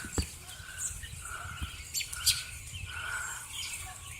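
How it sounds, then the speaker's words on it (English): Several small birds chirp and tweet outdoors around rooftops, with scattered short calls coming from a moderate distance over faint background noise. "Look at that one bird right there."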